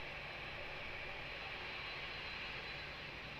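An airliner taking off on runway 02 at Lisbon Airport gives a steady, distant broadband roar that holds level throughout, with a brief sharp click at the very end.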